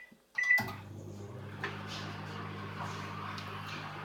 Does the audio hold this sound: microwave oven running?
yes